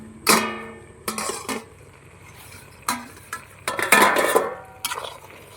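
Taro leaf and chickpea curry stirred in an open pot, with irregular metallic clanks and scrapes of a spoon against the pot over a low simmering sizzle, close and without talk.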